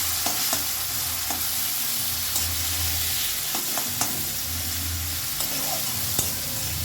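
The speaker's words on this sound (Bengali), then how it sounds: "পটল ভাজা তেলের মধ্যে আমি চিংড়ি মাছগুলো ভেজে নেব" Prawns coated with salt and turmeric fry in hot oil left from frying pointed gourd, a steady loud sizzle with occasional spatula scrapes and clinks throughout.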